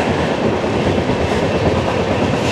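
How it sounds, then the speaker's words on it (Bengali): The Garib Rath Express from Agartala to Kolkata rolls into Jangipur Road station with a loud, steady rumble and rhythmic clatter of wheels over rail joints, heard close and continuous without voices. "আমাদের ট্রেন পৌঁছালো তার যাত্রাপথের 15তম স্টেশন জঙ্গিপুর রোড"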